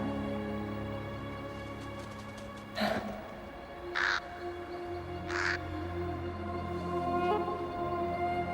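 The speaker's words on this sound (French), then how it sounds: "Un corbeau" A crow caws three times, each call a harsh, rasping burst spaced about a second apart, heard fairly close over a steady musical background.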